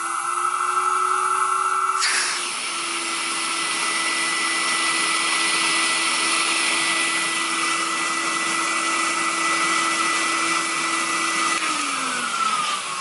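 A compact vacuum cleaner running with its HEPA filter removed, a steady loud motor whine and airflow roar that shifts pitch after a couple of seconds, then holds evenly before dipping slightly near the end.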